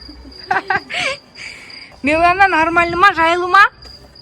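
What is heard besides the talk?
grasshoppers or crickets chirping outdoors at night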